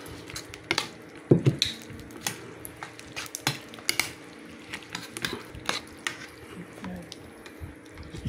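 Rice mixed with dried fish and calamansi is stirred in a pan with a utensil, giving irregular scraping, clinking strokes over a faint sizzle, with a louder clatter early on.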